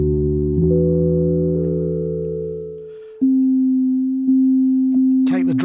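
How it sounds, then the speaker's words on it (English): Modal Electronics COBALT8 synthesizer tones: a layered harmonic chord drops away to a pure sine-like note that repeats in a few steady pulses, ending with a brief warbling blip. "let's go to a sine wave"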